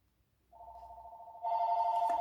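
A telephone rings indoors with a steady electronic warble, a single tone that swells louder partway through and continues unbroken, close and clear with no talk over it.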